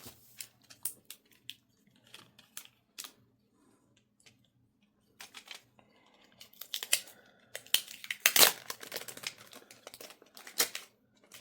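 Packing tape being pulled and pressed around wrapping on a fragile Lladro porcelain figurine: faint crinkles, clicks and tearing rasps, sparse at first, then a denser burst of rustling and a loud tape rip near the end.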